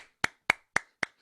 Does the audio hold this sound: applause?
yes